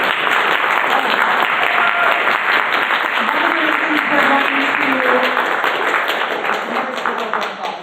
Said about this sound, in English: Can I get a round of applause for this crew of awesome workers?